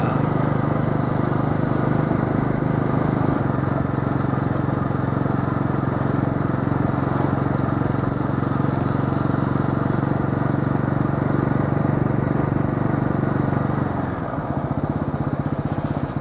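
A motorcycle engine drones steadily and loud throughout a ride on a hot day, the pitch shifting slightly near the end, with no talking over it.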